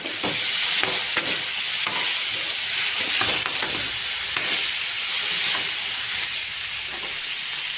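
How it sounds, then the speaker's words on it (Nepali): Chicken frying steadily in hot oil with turmeric, red chilli powder, cumin-coriander powder and salt, a continuous close sizzle with occasional stirring scrapes, no voices. "चिकनलाई मजाले 2-3 मिनट भुट्नुपर्छ।"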